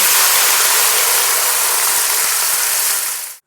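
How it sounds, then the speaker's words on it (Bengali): Water pours into a pan of fried mung dal, a loud, close rushing splash that holds steady for about three seconds and then stops abruptly. "এবার পরিমাণ মতো জল দিয়ে দেব"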